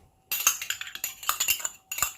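Metal spoon scraping and clinking against a pan while stirring basmati rice with fresh parsley, a quick run of close, bright scrapes with a short pause before a final burst.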